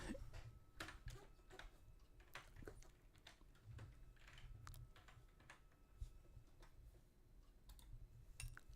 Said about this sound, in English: I'm typing with one hand, so it's going to be slow.